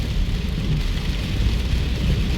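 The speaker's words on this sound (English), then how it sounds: "the rain starts to fall a little more heavily now" Heavy rain falls on a street in East Las Vegas, a dense, steady hiss with low rumbling traffic underneath, continuous and loud throughout.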